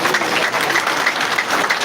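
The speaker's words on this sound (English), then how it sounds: "I will ask each of us to clap for our able panel." Steady, close clapping from an audience applauding a panel at the end of a political manifesto presentation, dense and even for about two seconds.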